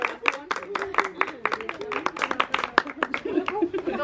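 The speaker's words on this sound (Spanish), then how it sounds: "Con otro aplauso para los papás" A small family group claps at a baby's first birthday gathering at home, quick uneven handclaps close by, with cheering voices and light laughter mixed in.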